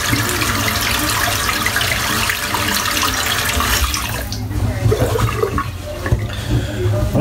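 Tap water gushes steadily into a bathroom sink during a shave. The rush is loud and close, then drops off and thins out partway through with some splashing.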